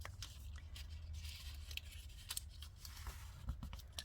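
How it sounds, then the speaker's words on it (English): Scissors snip through paper while a gift box is made, a run of quiet, close, irregular cuts and rustles with no talk. "Fold on those folds and cut on both sides."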